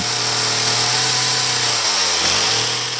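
Steady, loud, close-up whine of a petrol chainsaw cutting into wood while a sculptor carves, the engine pitch dipping briefly under load.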